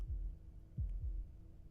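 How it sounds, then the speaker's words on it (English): A low, muffled heartbeat from the Slay the Princess video game thumps three times at an uneven pace, close and faint over a soft steady hum. "That was the sound of a heartbeat,"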